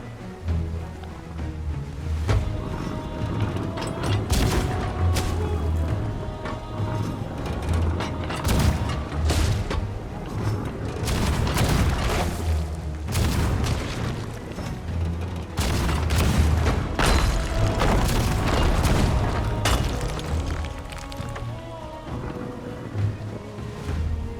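Pirate ship cannons fire in Sea of Thieves amid ocean waves and creaking ship noise, a dense run of heavy booms repeating every second or two over a constant roar of water and battle.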